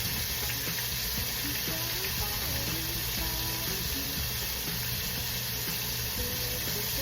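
Slices of deer backstrap venison fry in oil, giving a continuous close sizzle that stays steady throughout, with music playing softly underneath.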